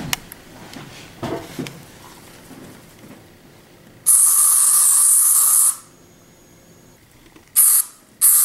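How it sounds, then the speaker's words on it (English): A spray can of syrup hisses in one long burst, then two shorter ones, close and loud after a quiet stretch with a few soft handling noises. "Comes in like a spray can. A little bit like bug spray."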